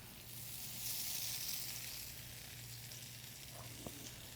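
Tofu and vegetables for a southwest tofu scramble frying in a pan, a steady soft sizzle with a faint low hum, quiet and close, alone without talk.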